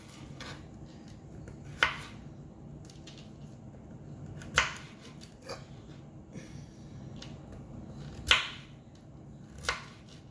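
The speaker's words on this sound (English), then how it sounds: "Let me cut up some zucchini." A knife chops zucchini on a cutting board in a home kitchen, making five sharp, isolated knocks spaced a couple of seconds apart over a steady low background hum.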